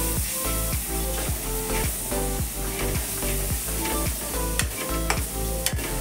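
Masala for a Maharashtrian val bean bhaji sautéing in a pan, a loud close sizzle with rhythmic stirring scrapes throughout, no voices.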